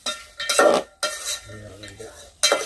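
Close metallic scraping and clanking of a ladle stirring vegetables for vaghareli khichdi in a pot, in a few separate bursts with short pauses between.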